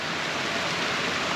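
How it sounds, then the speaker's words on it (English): Steady rain pours down around a backyard creek waterfall, an even, dense hiss of falling water that stays constant throughout without any voices. "I hope the rain slows down."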